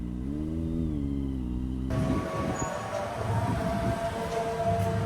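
A motorcycle ride on a university campus past the Faculty of Economics and Business building: a steady droning engine hum for about two seconds, then rushing wind and road noise carrying on to the end, with no talking.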